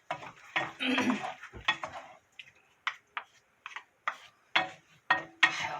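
Jjukkumi, webfoot octopus, stir-fried over high heat in a pan, with irregular scraping and clanking strokes of a utensil in short separate bursts, fairly close and moderately loud, no voice.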